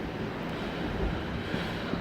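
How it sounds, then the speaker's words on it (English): Steady roar of hurricane-force wind at a beachside spot during Hurricane Irma, heard from behind glass as a continuous low, broadband rumble with no breaks and no voices. "as you can see, this is windy out here"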